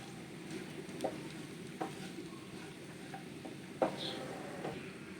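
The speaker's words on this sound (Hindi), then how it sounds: "थोड़ा सा भून लेंगे हम इन्हें, ज़्यादा नहीं भुनेंगे, हल्की आंच पर भुनेंगे हम इन्हें।" Sliced dry fruits roasting gently in a pan over low heat for Eid sheer khurma, a soft steady sizzle with occasional light clicks and stirring taps against the pan.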